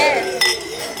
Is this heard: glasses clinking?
yes